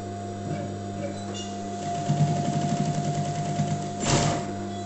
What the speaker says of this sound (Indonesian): Kemudian kita jahit di sini. Lalu ke bawah ya.